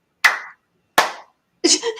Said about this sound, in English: Everybody just do one clap.